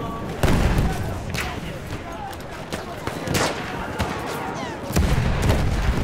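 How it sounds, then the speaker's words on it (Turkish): Battlefield 1 battle with artillery fire, several heavy booming blasts among scattered gunfire, loud and close, with shouting voices mixed in. "Topçu bataryası! Dikkatli olun!"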